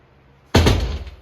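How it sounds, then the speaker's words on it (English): A single solid door thunk on inexpensive Harbor Freight hinges, close and loud, rings briefly after a moment of quiet. "opens and closes just fine on these inexpensive hinges"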